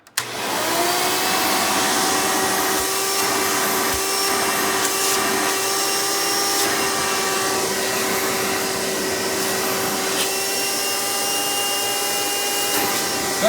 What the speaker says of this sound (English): this is a direct air vacuum